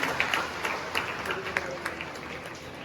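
An audience claps at a student honours ceremony held by a village weavers' community, fairly faint, distant applause with steady rhythmic hand claps and murmuring voices underneath.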